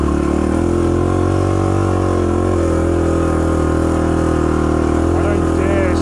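An XR250 dirt bike's engine strains loud and close in low gear as it climbs a steep hill, a steady labouring drone with a slight rise in pitch and no gear change.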